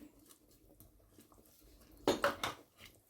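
Onion and paprika drop into a pot of beef vegetable soup, a short clattering burst against a quiet kitchen background.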